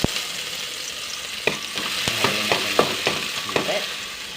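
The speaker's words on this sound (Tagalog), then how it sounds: "Gisayin na natin guys ang garlic." Garlic sautéing in oil in a casserole pan, a steady sizzle under a series of sharp spatula scrapes and stirs that grow busier after the first second and a half, close and fairly loud, with no talk.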